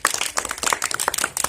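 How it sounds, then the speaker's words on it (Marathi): Primary schoolchildren in a fifth-grade maths classroom clapping together, a brief burst of quick, dense hand claps close by. "सगळ्यांनी जोरात टाळ्या वाजवा त्याच्यासाठी."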